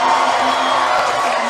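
A gymnastics arena crowd cheers and whoops as a gymnast mounts the balance beam, a dense, steady wash of noise held loudly throughout.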